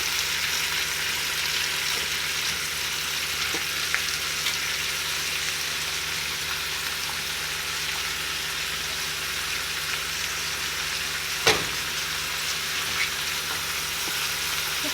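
Vegetables with tomatoes and rosemary fry in a crowded, overflowing pan, giving a steady close sizzle that runs without a break. One sharp clatter of stirring stands out midway, and no one speaks.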